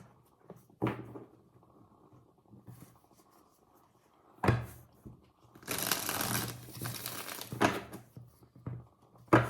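Tarot cards are shuffled close by and quietly in a few brisk riffling bursts, separated by soft taps and handling sounds.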